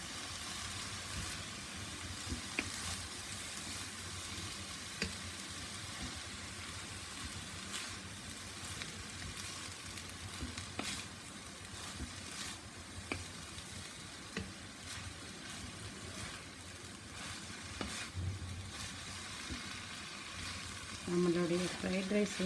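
Vegetable fried rice with onion is stir-fried in a pan, giving a soft, steady sizzle with scattered scraping taps throughout, faint and close.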